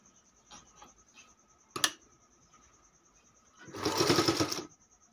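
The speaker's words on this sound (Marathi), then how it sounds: "फोल्ड करून आपण जिथं पहिली टीप मारलेली आहे त्याच टिपावरती टीप चालवायची आहे." A sewing machine stitches the folded border of a quilt made from old saris, with light ticks and a sharp clunk leading into a steady, close whirring burst of stitching that runs for about a second.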